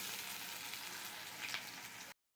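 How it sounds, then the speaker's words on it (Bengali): Onion frying in a pan alongside dal and boiled potato gives a steady, even sizzle throughout, close and moderately loud, then cuts off abruptly. "পেঁয়াজটা খুব ভালো করেই ভাজা হয়ে গেছে"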